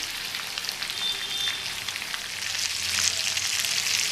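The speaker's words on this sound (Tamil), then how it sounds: "இனி அந்த சைடு மீன் நல்லா ஃப்ரை ஆகட்டும்." Fish fries in hot oil with a dense, steady sizzle and crackle, loud and close, with no voices.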